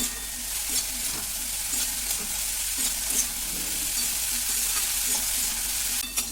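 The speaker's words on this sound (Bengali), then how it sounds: "ফুলকপিটাকে ভালো করে ভেজে নিতে হবে" Cauliflower frying in a pan with turmeric, a steady close sizzle overlaid with repeated scraping and stirring strokes of a spatula, no voices present.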